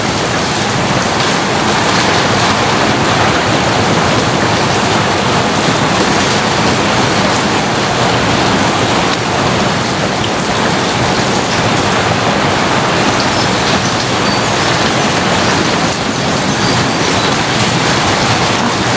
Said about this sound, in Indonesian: Kita dengerin suara hujan di rumah gue aja sampai reda.